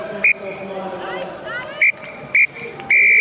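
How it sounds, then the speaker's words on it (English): A referee's full-time whistle sounds in three short blasts and then one long final blast, sharp and close, over a murmuring crowd and a voice at a women's rugby sevens match, Canada versus Ireland. "And there is the full-time whistle."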